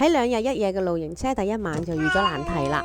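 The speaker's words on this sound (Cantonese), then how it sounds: "估唔到貓貓喺陌生嘅環境呢係極不安， 不停咁叫啦" An elderly 21-year-old diabetic cat meows again and again inside a camper van, its cries mixed under a person speaking nearby.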